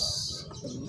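Pigeons at a racing-pigeon loft calling in the background, a short soft coo and chirp under steady ambient noise.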